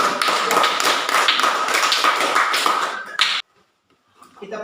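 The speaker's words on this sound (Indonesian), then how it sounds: "kita berikan tepuk tangan dulu untuk kelompok" Students in a classroom applaud group 3 with a dense, fast burst of many hands clapping that lasts about three seconds and then cuts off sharply into near silence.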